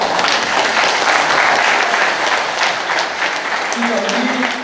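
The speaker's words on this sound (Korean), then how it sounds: "그러니까 이 자신을 위한 감사의 박수" An audience at a special lecture during a foundation launch ceremony breaks into dense, sustained clapping, loud and even throughout the few seconds.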